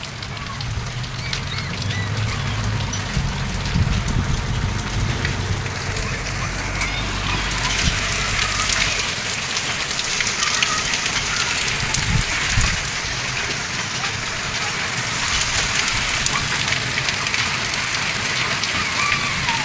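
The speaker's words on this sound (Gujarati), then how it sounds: "જબ્બર પડે વરસાદ" Heavy rain with hail pours down continuously in a village, a dense hiss of drops hitting surfaces, with occasional low rumbles and faint background noise.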